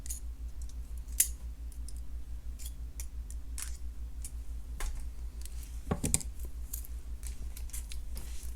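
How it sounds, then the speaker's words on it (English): Small cutters snip the excess wire off a beaded necklace, giving sharp, close clicks scattered over a steady low hum, with one or two clearer snips standing out. "Snip off the excess"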